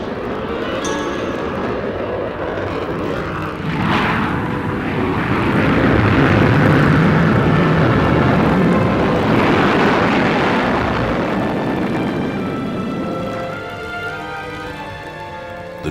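A Gloster Meteor 4 jet aircraft roars past with a broad, sustained engine noise that swells from about four seconds, peaks mid-way and eases off toward the end, loud and continuous with no voices.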